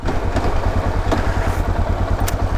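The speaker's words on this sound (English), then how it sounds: "Clunk, clunk, clunk. Those Yamaha transmissions, though." A Yamaha motorcycle's engine drones steadily and close, with a few sharp clunks from its transmission shifting gears over the low rumble.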